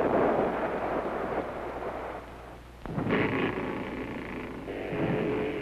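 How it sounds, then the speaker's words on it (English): Artillery guns fire in a 1957 educational film about World War I, with rolling booms and a low, rumbling barrage that drops briefly before another heavy blast and continued distant thunder. "Germany let loose its guns on that small nation."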